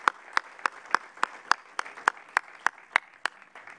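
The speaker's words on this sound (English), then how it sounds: "I think that deserves applause." At a solar press conference, a sparse audience claps in an even, steady rhythm of about a dozen distinct, fairly close claps, with no talking over them.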